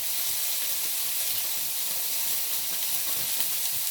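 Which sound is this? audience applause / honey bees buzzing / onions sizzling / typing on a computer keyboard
onions sizzling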